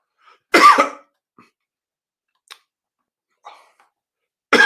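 A person coughs once, loud and close, then silence broken by faint small clicks and mouth noises, with a second cough starting right at the end.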